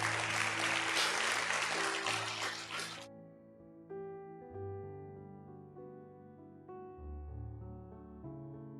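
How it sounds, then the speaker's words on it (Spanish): A church congregation claps in a dense burst of applause for about three seconds, which stops abruptly and gives way to sustained organ or keyboard chords. "Dale una ofrenda de palmas al Rey."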